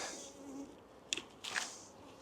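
Honey bees hum faintly around an opened beehive, a soft low buzz with a few sharp clicks and rustles from handling the hive.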